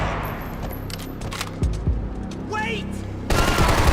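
Gunfire and combat sounds in the video game Max Payne 3, with several sharp impacts and a loud burst near the end over continuous game noise, while a voice shouts briefly.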